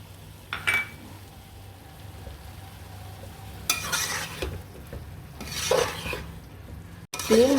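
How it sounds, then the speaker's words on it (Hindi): Chopped vegetables and green chillies are stirred and fried in spices in a pan for vegetable pulao, a steady sizzle with scraping spoon strokes and occasional clinks against the metal, close and continuous. "3 मिनट हमने अच्छे तरीके से मसाले में अपने सब्ज़ी को भून लेना है।"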